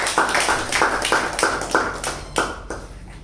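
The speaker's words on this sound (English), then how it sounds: "a big round of applause for Toastmaster Mamatha" Clapping from a Toastmasters meeting audience greeting a speaker, a short round of steady applause from a moderate-sized group, fairly close, with no talking over it.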